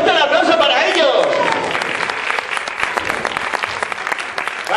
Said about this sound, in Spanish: ¡Pues ponte el aplauso para ellos!